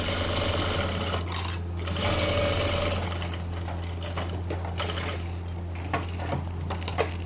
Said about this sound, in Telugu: పైన ఒక స్టిచ్ వేసుకుంటే సరిపోతుంది